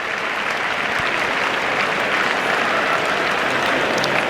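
A cricket crowd at an England versus New Zealand Test match, on its feet and applauding as England near victory: dense, sustained clapping from a large crowd that stays even throughout.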